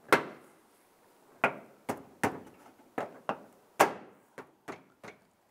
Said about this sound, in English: I'm going to pop in our bumper side here